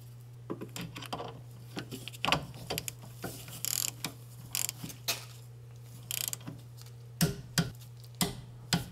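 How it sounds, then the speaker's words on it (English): Torque wrench tightening a brake caliper bolt on a Hyundai Sonata during rear wheel bearing work, giving a series of sharp close ratcheting clicks in irregular bursts over a steady low hum, with no talk. "we're gonna torque this caliper bolt up to 30 foot-pounds"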